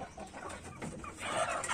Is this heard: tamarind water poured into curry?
no